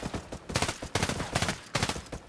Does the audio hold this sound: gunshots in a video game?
yes